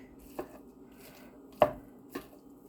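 A spatula chops through sloppy joe ground meat in a pan, making three separate dull knocks against the pan, the middle one loudest, with quiet gaps between and no talking.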